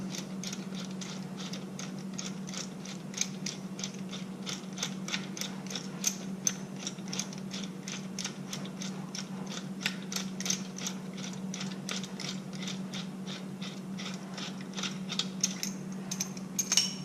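Steady mechanical whir from a Jims 5518 tool, with a fast train of ratchet-like clicks and ticks layered over it, as a bolt is drawn out of a Harley Touring shift lever; close and fairly quiet, no voices.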